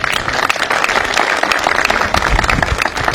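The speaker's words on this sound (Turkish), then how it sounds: "Bence de bir alkış istiyor" Dense applause from an audience at a Ramadan community dinner, a steady wash of many hands clapping throughout, fairly loud and close, with no clear talk over it.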